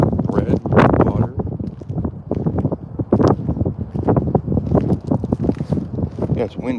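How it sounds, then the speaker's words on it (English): Steady wind buffets the microphone while a person talks continuously over it, the gusts rumbling low and constant throughout. "it's windy here too"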